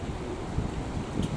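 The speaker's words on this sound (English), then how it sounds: "it's very breezy here" Breezy outdoor wind buffeting the microphone, a low continuous rumble with gusty swells, steady and fairly faint.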